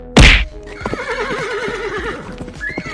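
An angry cartoon horse gives a loud, sharp neigh at the start, followed by a wavering whinny and soft hoof clops, close and without talk.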